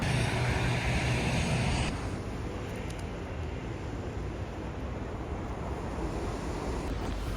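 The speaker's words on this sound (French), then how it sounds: "ça fait du bien d'entendre le bruit des vagues" Ocean waves wash onto the shore in Los Angeles as a continuous broadband rush, louder at first and then settling into a softer, steady surf with some wind noise.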